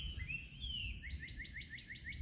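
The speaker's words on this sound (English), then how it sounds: "Yeah, I'm enjoying the Cardinal songs." A cardinal sings outdoors on a cool morning, giving a faint, slurred whistle followed by a quick, evenly repeated run of rising chirps over a low, quiet background.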